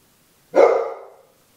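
An unhappy dog lets out a single loud, close bark, a sharp burst that rings out briefly before fading into silence.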